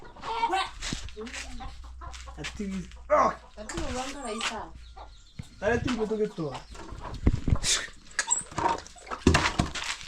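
A pet dog in a countryside yard, with barks and yelps breaking out at intervals among clucking chickens and a person talking close by, the animal noises loud and busy throughout.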